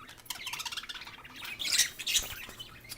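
Pet lovebirds squawking inside a cage, a couple of harsh, high calls standing out near the middle of a short, fairly quiet stretch with no voices.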